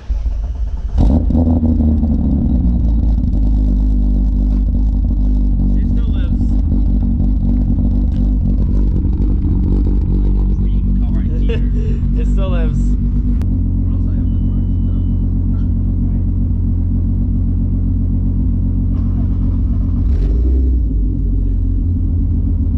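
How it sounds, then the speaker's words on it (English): A Volkswagen Golf Mk3 VR6 engine cranks from cold and catches, then settles into a steady, loud idle with a deep rumble and some clattering; a voice speaks briefly over it. "Gotta get some VR6 sounds going"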